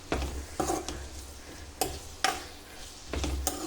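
Ivy gourd frying over a medium flame in a pan, a soft steady sizzle broken by several sharp scraping stirs of a spatula at irregular intervals, close and clear.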